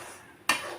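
A spoon stirs suji (semolina) frying in a pan for laddu, giving one short metallic scrape and clatter against the pan after a soft, quiet moment.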